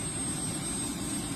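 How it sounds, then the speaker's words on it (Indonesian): Helicopter engine and rotor heard as a steady, loud, low droning roar with a thin high whine on top, continuous throughout with no talking. "Helikopter."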